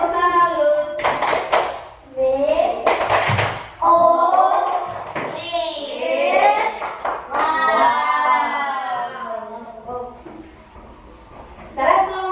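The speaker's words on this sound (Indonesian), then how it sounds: "berikan tepuk tangan buat kelompok" Primary school children in a classroom clap in short, sharp bursts for a group while voices chant and talk over and between the claps.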